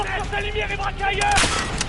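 Machine gun fire in the Call of Duty Modern Warfare video game, a short burst of shots mixed with game music and effects, heard under talk and growing louder toward the end.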